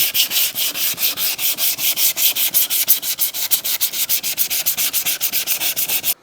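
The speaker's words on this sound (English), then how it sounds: "And then we're gonna start sanding. Hit every spot, not just some of the spots" A car headlight lens is sanded with 180 grit sandpaper in quick, even back-and-forth strokes, a loud, steady, rhythmic rasp close by with no talking.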